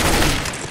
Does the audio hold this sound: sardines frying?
no